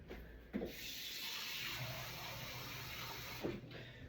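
Tap water running into a mead fermenting vessel, a quiet steady rushing and trickling with a couple of brief knocks near the start and end.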